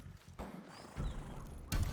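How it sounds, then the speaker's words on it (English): A plain brown horse in the Ghost of Tsushima video game, with soft hoof clops and a brief snort or whinny close by, fairly quiet. "it seems like a basic brown horse"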